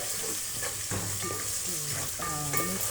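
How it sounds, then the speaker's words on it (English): Red onion fries with salt in a pan for Kenyan pilau, giving a steady close sizzle with occasional stirring scrapes and clinks throughout. "First we're gonna be frying the onion."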